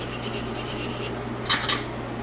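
A Hurst shifter stick is trial-fitted into a Boss 302 Mustang shifter during a rebuild, giving short metallic rubbing and clicking as it snaps in and out. The sounds are close, brief and alone, with two sharper clicks near the end.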